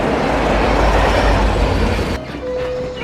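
A subway train rumbles loudly underground in a film scene, a dense roar that cuts off abruptly into quieter station ambience with a faint tonal hum.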